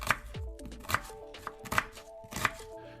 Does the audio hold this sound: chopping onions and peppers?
yes